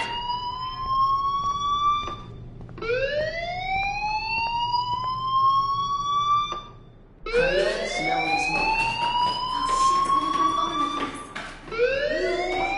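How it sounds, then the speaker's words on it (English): In the video game Life is Strange, a school fire alarm blares in rising, whooping electronic cycles, each repeating after a short gap, loud and insistent with no talk over it. "Hey, do you hear that fire alarm?"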